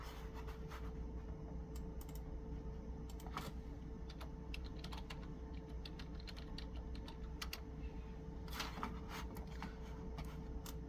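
Steady keyboard typing with rapid clicks and occasional louder key strikes, close by, over a constant low electrical hum.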